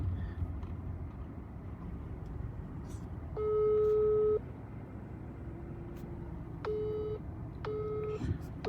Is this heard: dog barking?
no